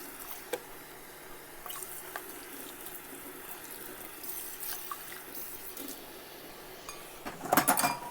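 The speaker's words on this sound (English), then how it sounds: "it just helps me to scrub my sink and my dishes, get everything clean" Sink and dishes being scrubbed under running water in a home kitchen after baking, with a steady wash of water, soft squishing scrubs and occasional clinks, growing louder in a splashy burst near the end.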